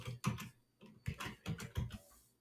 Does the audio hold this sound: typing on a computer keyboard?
yes